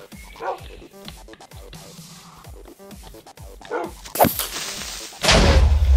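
Tamed wolves barking in the video game Minecraft, a run of short, sharp barks and yips at an uneven rhythm, followed by a sudden loud burst and a roaring, noisy blast near the end.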